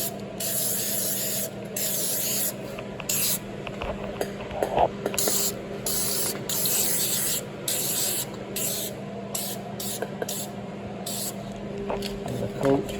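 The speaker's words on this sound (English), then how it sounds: "now on this rocker panel, I'm going to spray this so I can coat everything" Coating is sprayed onto a welded Toyota rocker panel in a string of short hissing bursts with brief pauses between them, close by, over faint background hum.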